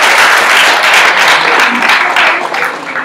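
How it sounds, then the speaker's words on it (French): Loud, close applause from a crowd thanking itself after an election, dense continuous clapping that holds steady for about three seconds before easing slightly. "j'aimerais bien qu'on applaudisse pour nous."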